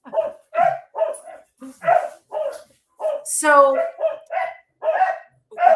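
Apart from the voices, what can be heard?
dogs barking on a farm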